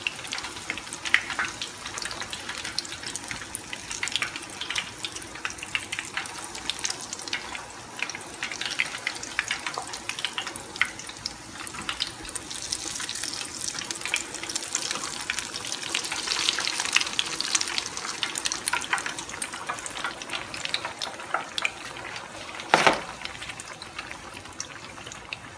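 Stuffed hot dogs with cheese fry in oil with a steady crackling sizzle and scattered pops, heard close for the whole stretch with one sharper clack near the end.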